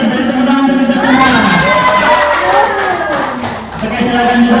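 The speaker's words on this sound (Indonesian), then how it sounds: "Beri tepuk tangan untuk kita semua" A school audience claps and cheers loudly up close, with children's shouting and excited whooping voices riding over dense, continuous applause for the whole stretch.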